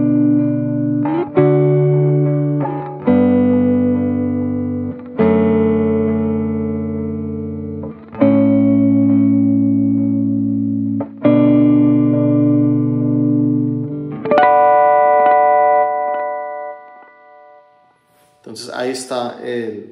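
Electric guitar played through a Timeline delay pedal set to quarter-note repeats, sustained chords ringing with echoing trails, a few strummed changes about every three seconds; a voice starts talking near the end.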